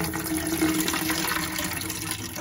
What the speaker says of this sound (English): I'll start turning on the water.